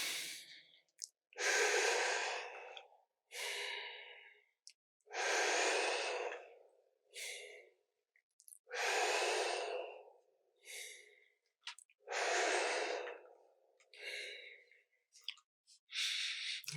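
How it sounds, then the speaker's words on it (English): Yoga breathing, slow deep inhales through the mouth alternating with exhales through the nose, about eight long breaths, close and alone with quiet pauses between. "So we're going to inhale through the mouth and exhale through the nose."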